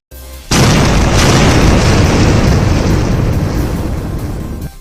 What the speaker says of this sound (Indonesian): Padahal TNT-nya besar ledakannya.